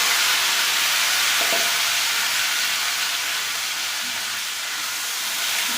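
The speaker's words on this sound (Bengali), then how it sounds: "টমেটোটা দিয়ে দিলাম।" Tomato fries in a pan with dried chili and five-spice, giving a loud, steady, close sizzling hiss throughout with a faint knock early on.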